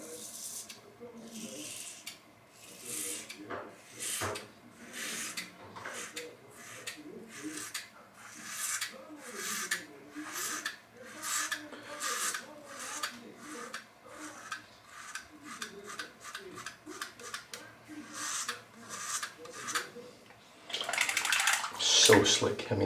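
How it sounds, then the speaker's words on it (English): A leaf razor shaves a head lathered with Blue Devil Shave Company Strawberry Patch soap against the grain, giving a long series of short, crisp scraping strokes in a steady rhythm, close and distinct. "with the leaf razor against the grain, using the Blue Devil Shave Company Strawberry Patch"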